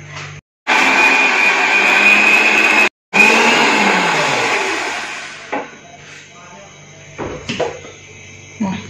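A kitchen blender grinds ginger, green chilies and garlic in loud whirring bursts with two brief stops, then winds down into quieter clatter and handling sounds.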